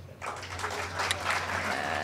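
Audience applause at a Hindi poetry recital (kavi sammelan) in a hall, a steady wash of many hands clapping that starts after a short pause and continues evenly throughout.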